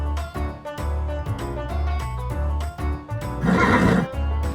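A horse named Pezo gives a loud, close whinny near the end, under a steady rhythmic background, at the start of a mountain ride in Armenia.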